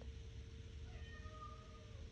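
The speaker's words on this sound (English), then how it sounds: "He's also a really talkative cat, so if you hear him, just kind of ignore him." A talkative pet cat meows faintly in the background, a few drawn-out calls rising over a low steady room hum, with no talking.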